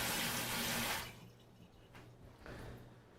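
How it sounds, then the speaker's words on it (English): A brushed nickel pull-down kitchen faucet gushes water into a sink for about a second, then shuts off, leaving quiet splashes and drips. "Let me turn it on so you could see the two sprayer functions."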